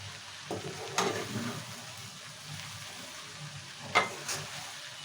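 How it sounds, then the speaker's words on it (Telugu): Okra curry cooking in a pan and being stirred gently from the sides, a low sizzle broken by a few scraping strokes. "వీడియోలో చూసిన విధంగా ఇలా సైడ్ నుంచి ఇలా అంటూ కలపాలి బెండకాయ."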